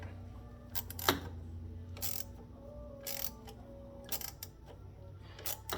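A wrench tightens an 8 mm bolt on a GT Mustang turbo guard, giving several short bursts of ratcheting clicks spaced about a second apart. The clicks are close and fairly quiet over a low background hum.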